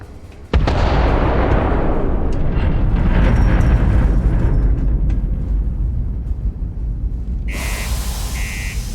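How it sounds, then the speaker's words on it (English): A particle detonation explosion from the video game Starfield erupts suddenly into a loud, sustained rumbling roar that slowly fades, followed by two short high electronic beeps near the end, with no speech. "Particle detonation completed."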